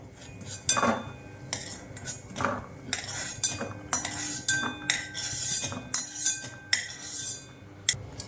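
Roasted cashews are spooned out of a pan, a run of irregular metallic scrapes and clinks of a spoon against the pan, fairly close, with no talking.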